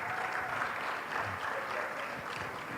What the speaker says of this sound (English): Please, a round of applause for my wife.